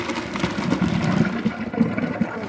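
Tap water runs steadily while fresh mushrooms are rinsed after draining during kitchen prep for canning, a continuous close splashing stream.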